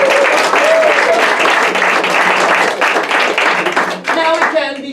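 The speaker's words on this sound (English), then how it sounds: "round of applause." A burst of loud audience applause, dense clapping filling the space for several seconds before tapering off at the end.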